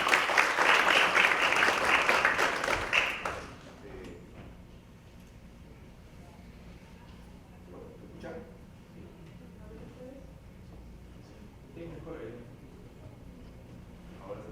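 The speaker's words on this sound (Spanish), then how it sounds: "Un fuerte aplauso para Cristian Chunque." Strong audience applause for a speaker at a university lecture event, loud and dense for about three seconds then cutting off, followed by a quiet room with faint shuffling and scattered noises.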